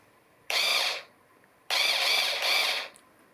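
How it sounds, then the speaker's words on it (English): Two bursts of a high-pitched power drill whirring while assembling furniture, the first short, the second longer with a slight dip in the middle, close by with no talking. "I got my drill, so I'm gonna make my furniture"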